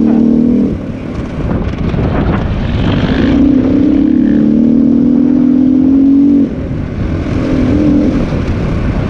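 Motorcycles ride past on a road, their engines a loud, steady roar that rises and falls in pitch as they pass close by, with no talking.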